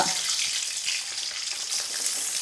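Mustard seeds, garlic and green chillies crackle and sizzle in hot oil in a village kitchen, a steady, close hiss of frying with no voices.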